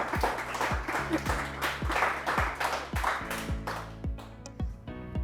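Audience applause at an Indonesian plumbing and sanitary talk show, steady clapping for about five seconds under a tonal music bed with rhythmic plucked accents.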